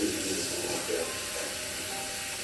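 Running water pours steadily from a kitchen tap as cassava leaves are rinsed, a constant close hiss with faint shifts in tone as the leaves move under the stream.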